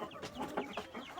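Chickens cluck in a rapid, overlapping run of short calls, nearby and moderately loud, with no talking.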